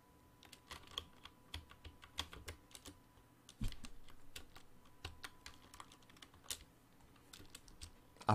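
Keys clacking on a computer keyboard during a Rend Frostkeep closed alpha game session, irregular bursts of quiet close taps with short pauses between runs and one louder thump partway through.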